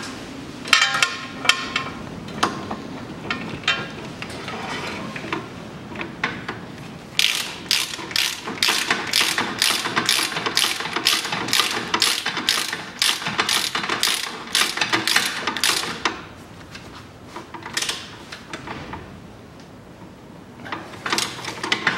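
A ratchet clicks rapidly while tightening the lower bolt on the front right drive axle of a 2007 Mazda 6, coming in bursts of close metallic ticking with a few clanks between them and no talk.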